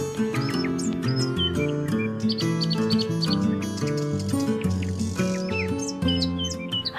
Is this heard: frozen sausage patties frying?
no